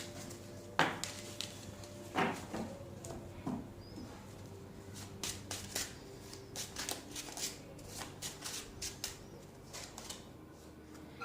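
A deck of tarot cards is shuffled and merged by hand, giving quiet riffling and flicking sounds with a few sharper taps in an otherwise calm room.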